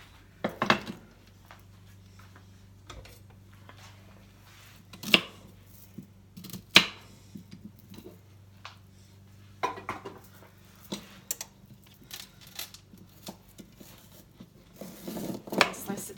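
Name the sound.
knife slicing celery stalk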